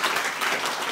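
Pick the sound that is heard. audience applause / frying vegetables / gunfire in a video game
audience applause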